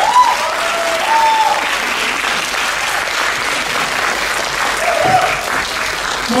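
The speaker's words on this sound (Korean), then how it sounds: "여러분, 동감하신다면 박수 보내주십시오." Loud, sustained audience applause at a world Korean-language speech contest, dense steady clapping filling the hall with a few whistles or voices rising briefly above it.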